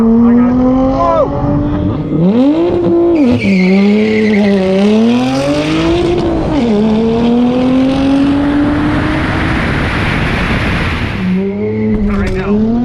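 A loud drag race car engine revs and climbs through gears as tires squeal and skid on launch, the roar rising and falling close by, with voices talking over it.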